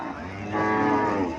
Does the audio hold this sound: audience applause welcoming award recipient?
no